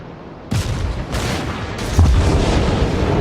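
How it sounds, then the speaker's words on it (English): Torpedo hits in a World of Warships naval battle land as heavy booming blasts, one after another with a rumbling low end. The impacts are loud and close, and no one talks over them. "I'm just going to launch a torpedo spread at him"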